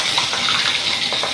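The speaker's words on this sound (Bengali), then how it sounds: "মাছ ছেড়ে দিচ্ছি।" Tengra fish hitting hot mustard oil in a kadai: a steady, loud, rushing sizzle that holds for the whole moment with no voices.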